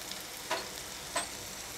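Spices including turmeric, green chilli, red chilli powder and sambar masala sautéing in a pan for South Indian sambar, a soft steady sizzle with two brief scraping stirs.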